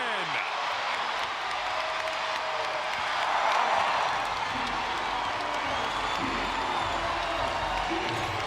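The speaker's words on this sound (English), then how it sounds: "This crowd really alive now" A basketball arena crowd at a WNBA game between the Golden State Valkyries and Chicago Sky cheers and claps in a loud, sustained roar that swells briefly near the middle, with a commentator talking over it.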